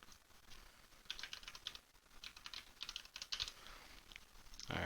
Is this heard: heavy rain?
no